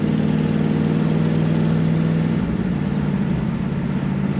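A 1967 Ford Mustang convertible hums along at a steady cruise, its mid-low engine drone constant and moderately loud throughout, with no voices.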